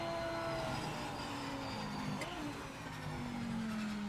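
A Mazda MX-5 engine in the racing game Project Motor Racing drones steadily, its pitch sliding slowly downward as the car runs, moderately faint and continuous.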